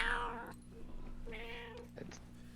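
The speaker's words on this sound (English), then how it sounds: "There's a little kitty." A little kitty meows indoors, a couple of short, moderately close cries over a low steady background hum.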